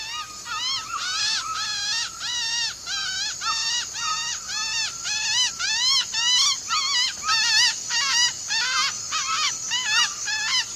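A man in the Amazon jungle imitates a bird call, whistling a long series of rising, warbling notes in quick repeated phrases, loud and close against a quiet forest background.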